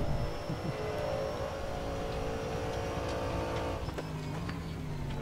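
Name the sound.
video game race car engine hitting rev limiter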